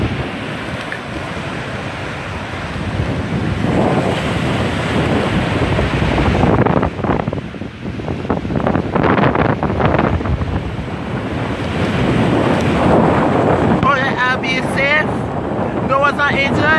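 Hurricane Maria's wind roars hard and continuously in Bridgetown, Barbados, gusting and buffeting the microphone with a rushing, surf-like noise while someone talks over it.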